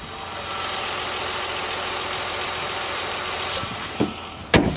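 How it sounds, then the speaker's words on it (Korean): A Nissan Maxima V6 engine idles smoothly and steadily, recorded close up with the hood open, ending with a couple of brief clicks or knocks. "지금 바로 맥시만 차량의 엔진 소리 한번 자세하게 들려드릴게요."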